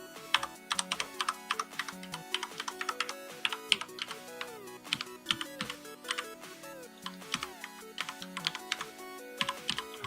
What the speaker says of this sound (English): I've like hit every key on the keyboard